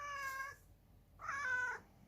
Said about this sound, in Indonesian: saya biarkan kucing saya menemani saya di sini, namanya Carlito